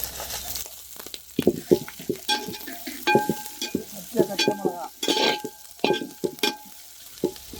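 Green chillies, curry leaves, cumin, garlic and dried red chillies crackle and sizzle in hot oil for a Hyderabadi chicken majestic tempering, with irregular spitting bursts and the scrape of a stirring spoon against the pan, close and moderately loud.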